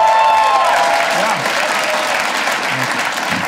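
Comedy club audience in Provo bursts into loud, sustained applause at a stand-up special, a dense wash of clapping that tapers slightly, with no speech over it.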